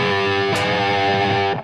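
A looped electric guitar plays a sustained, warm and distorted tone, with a sharp attack midway and a steady harmonic drone. It sounds close and loud, with no voices, and fades out at the end.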